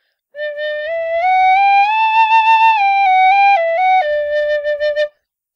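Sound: tin whistle played with warm air

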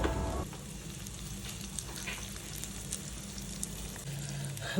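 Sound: capsicum frying in butter on low flame

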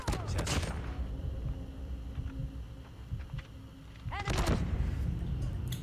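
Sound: PDW-57 SMG gunfire in video game Call of Duty Mobile

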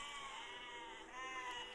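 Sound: sheep bleating in the video game Besiege

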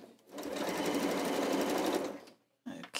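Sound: sewing machine stitching two flat pieces of fabric

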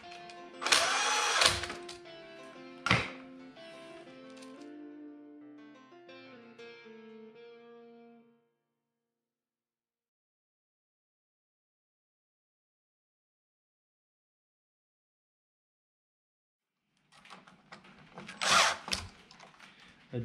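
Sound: power drill driving screws back in

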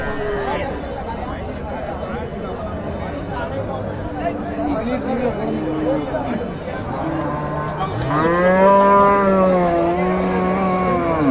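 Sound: Kangeyam cross cattle mooing at cattle market

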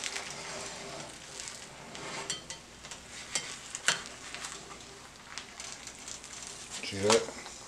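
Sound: eggs cooking in a pan

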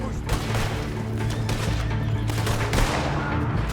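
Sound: gunfire in the video game Red Dead Online

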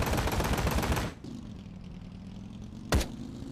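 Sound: gunfire in video game Ride to Hell: Retribution

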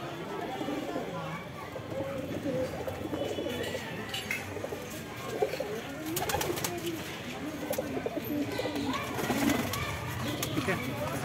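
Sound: pigeons cooing

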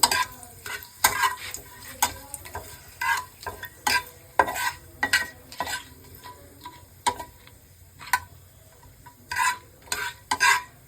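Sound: frying dried chilli and bay leaf tempering in oil

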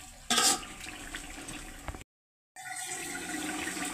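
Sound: spice water being poured into pot of soaked rice

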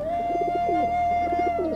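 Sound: pigeons cooing

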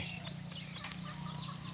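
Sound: chickens clucking while being fed alongside ducks

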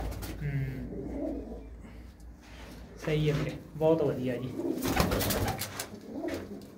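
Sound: pigeons cooing

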